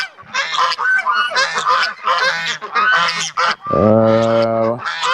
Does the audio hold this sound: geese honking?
yes